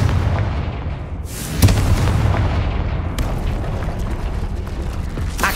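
A Confringo blasting spell from Hogwarts Legacy bursts into a loud, deep explosion, followed by a rumbling tail and a second sharp blast near the end.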